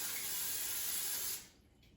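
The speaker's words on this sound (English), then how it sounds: "I'm going to spray the bottom of the basket with a non-stick cooking spray" Non-stick cooking spray hisses steadily into an air fryer basket for over a second, close and loud, then cuts off, leaving faint room noise.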